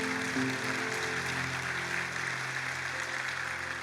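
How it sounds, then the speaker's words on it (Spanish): A church congregation applauds during a Spanish-language sermon, a steady wash of clapping with a faint sustained tone underneath, moderately distant. "Le damos un aplauso al Señor por eso."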